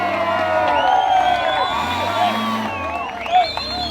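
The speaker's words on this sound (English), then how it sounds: "to the delight of the crowds who cheered them on" A crowd cheers outdoors at an off-road event, a steady wash of voices with whoops and shouts rising and falling, and a louder burst of excitement near the end.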